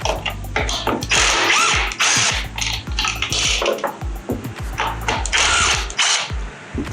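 A hand ratchet loosens 8mm bolts on a plastic lawnmower carburetor, loud close clicking in quick repeated bursts separated by pauses, with occasional metallic clanks of the tool, no speech.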